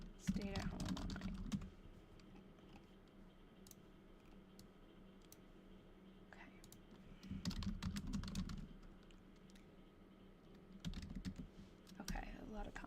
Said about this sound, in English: What is the purpose of typing it while reading?